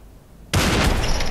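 A sniper rifle fires in the VR shooter Population One, one sudden loud blast after a quiet half-second, its roar and echo filling the rest of the moment.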